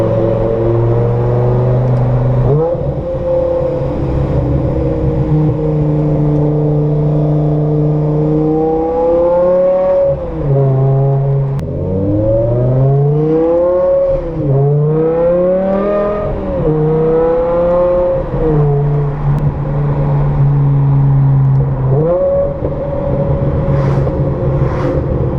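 Straight-piped BMW M6 V10 revving loudly up close, its pitch sweeping up and down through repeated throttle blips that settle into a steady idle between revs, with a raw, harsh exhaust tone throughout.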